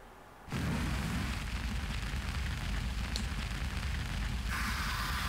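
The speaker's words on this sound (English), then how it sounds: "A trial by fire, I see." Fire blazing in the video game Zero Time Dilemma: a loud, steady roaring rush of flames bursts in after a brief quiet start and holds unbroken to the end, with no voices.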